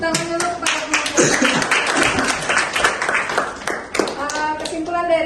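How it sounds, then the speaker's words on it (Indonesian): An audience at a youth drug-awareness talk claps for the presenter. The clapping is close and lively, made of many sharp individual hand claps forming continuous applause, and speech is mixed in at the start and end. "Yuk beri tepuk tangan dulu kepada pemateri."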